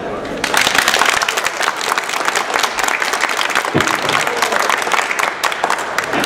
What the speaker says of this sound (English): for you, here is a huge applause